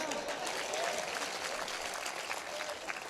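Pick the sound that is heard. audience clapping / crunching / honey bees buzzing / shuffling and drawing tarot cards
audience clapping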